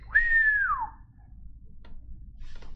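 A person tries to whistle, producing one short rising-then-falling whistled tone that fades within a second, followed by quiet room noise and a couple of faint clicks.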